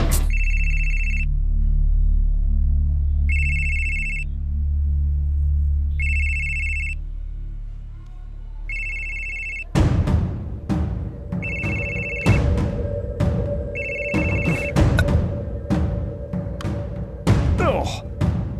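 An old-style telephone bell rings in repeated double bursts, loud and close over a low hum, then gives way to sharp clattering knocks and thuds as another electronic ring chimes twice amid the noise, with no talk.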